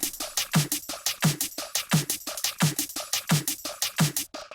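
A music loop run through a Soundtoys 5 delay plugin, giving a rhythmic, pulsing, smeared repeat effect; regular punchy beats about every two-thirds of a second, loud and steady with no voices.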